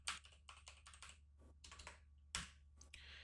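Typing on a computer keyboard while entering an animation expression, a quick irregular run of close, distinct key clicks with brief pauses and a few heavier strokes, over a steady low hum and no talk.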